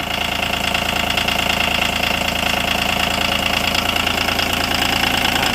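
Used Japanese-import motorcycle engine idling steadily, a close, loud, even mechanical chug with a faint knocking rhythm and constant vibration, running alone without any talk.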